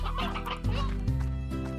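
Hens clucking in a coop in the game Slime Rancher, a steady run of close, loud clucks and low fowl calls with no talk.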